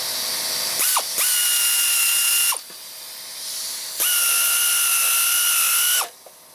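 A power tool cuts threads on a John Deere LA110 42-inch mower deck spindle in two sustained, high-pitched whining bursts of roughly one and two seconds, close by, with a brief pause between them.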